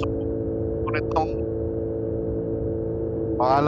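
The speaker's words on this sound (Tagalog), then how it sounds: "Yung tunog ng motor niya parang gustong pumunit." A Kawasaki Ninja 1000SX motorcycle engine runs steadily on the road, a low, even drone heard close up throughout, with brief voices breaking in over it.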